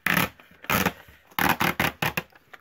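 Scrap paper rips against the grain along a homemade tear ruler in a quick series of short, scratchy tearing bursts, close and loud.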